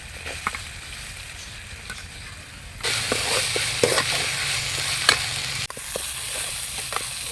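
Two onions sizzle steadily in a hot pan, with a brief louder surge of frying as more food hits the oil, and occasional light clicks of stirring.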